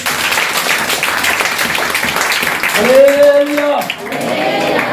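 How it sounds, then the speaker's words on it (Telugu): Church congregation clapping loudly in unison during a worship service, a dense burst of applause heard alongside a preacher's voice and a brief shouted response. "ఒకసారి గట్టిగా చప్పట్లు కొట్టండి"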